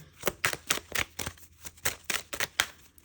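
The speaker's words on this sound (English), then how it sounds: "I love how glossy these cards are. They shuffle really well." Close, rapid shuffling of a glossy card deck, a steady run of crisp flicks and snaps with brief gaps, no talking.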